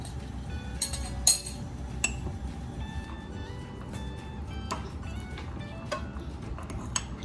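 A spoon stirs eggless chocolate mug cake batter with vegetable oil and vanilla essence in a cup, producing light, irregular clinks and ticks against the cup over a low background hum.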